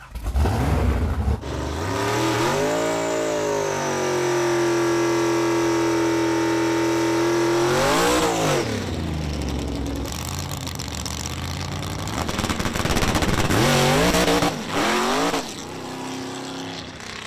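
The drag race car Blasphemi launches with its clutch let out slowly, its engine roaring loud and close in a long, steady drone. The pitch dips and swells around the middle, then turns rough and revving toward the end.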